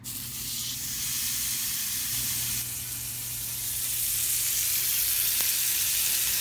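A burger patty frying in a little butter in a cast iron skillet over medium heat gives a steady, close hissing sizzle that grows slightly louder, with no voices.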